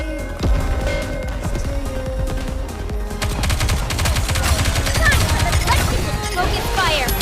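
Rapid gunfire in the mobile shooter game Goddess of Victory: Nikke, a dense continuous stream of shots with a steady metallic rattle and game effects layered over the top.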